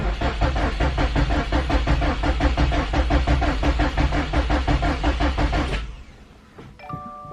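Starter cranking on a 2018 Subaru STI with a freshly installed Process West manifold: a loud, rapid, steady chugging churn for about six seconds, then it cuts off, leaving faint clicks and a quiet electronic chime.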